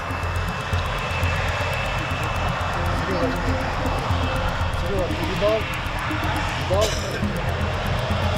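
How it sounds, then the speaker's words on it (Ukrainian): A T-80 tank's gas turbine engine gives a steady, high-pitched whistle near the Bakhmut fighting, sustained under a low rumble with voices talking over it. "80-ка, вона так і свистить, там авіаційний двигун"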